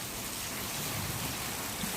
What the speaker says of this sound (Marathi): आता परत पाऊस सुरू झाला.